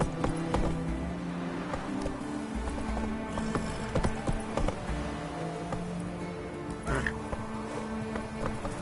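Horse hooves gallop in The Witcher 3: a steady, fast clip-clop close by that drums on without a break. A looping game ambience plays under it, with insect-like buzzing and a short whinny.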